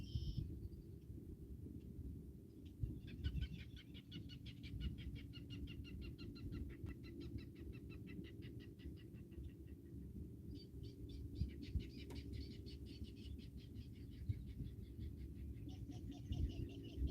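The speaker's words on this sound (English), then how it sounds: "Y'all hear them birds laughing at me?" Birds call in rapid chattering bursts at a distance, repeating over a steady low rumble of background noise.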